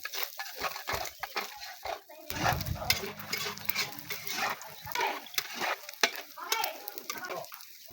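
Oil frying in a pan during a home-cooked pork and blood dish, a steady busy sizzle with clattering stirs of a utensil and bursts of louder crackle, a voice briefly speaking over it.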